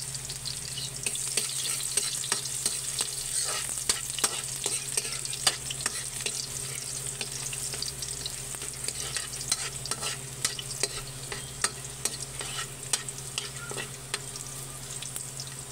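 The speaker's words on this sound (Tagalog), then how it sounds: "Dahil mainit na yung mantika natin, ilagay na natin ang ating bawang." Garlic sizzles steadily in hot cooking oil while a utensil stirs it, leaving sharp clicks and scrapes against the pan through a constant frying hiss.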